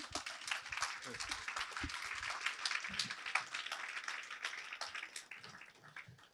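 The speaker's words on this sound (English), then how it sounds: "Can we give him another round of applause?" An audience at a MOEvement talk claps in a steady, fairly faint round of applause that fills the whole moment, with a voice speaking over it.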